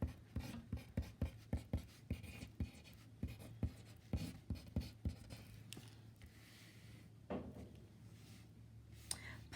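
A pen or marker writes out a chemistry equation on Dalton's law of partial pressures: a close run of sharp, rhythmic tapping strokes, then softer, sparser scratching, with no talking.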